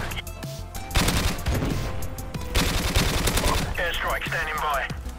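Rapid automatic gunfire in the Modern Warfare Remastered video game, with dense bursts of shots and sharp reports and a few electronic effect sounds near the end, loud and close.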